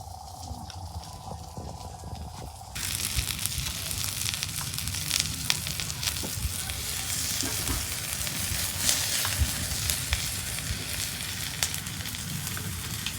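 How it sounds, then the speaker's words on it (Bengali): Cabbage and flour fritters (bora) dropped into hot soybean oil, a quiet hiss before a loud, steady sizzle breaks out and crackles on continuously, close up and with no talking. "এখন আমি একটা একটা করে বড়া ভাইজে নেব"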